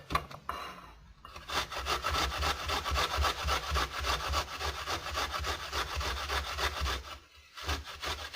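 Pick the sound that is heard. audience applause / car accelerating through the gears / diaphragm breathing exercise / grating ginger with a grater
grating ginger with a grater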